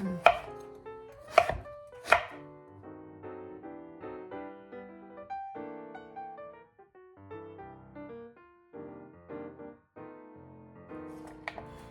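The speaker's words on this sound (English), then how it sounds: "Now, cut it like this. I'm gonna cut it more." A knife chopping bottle gourd on a cutting board, a few sharp loud chops at the start followed by quieter rhythmic cutting, with soft music-like tones underneath.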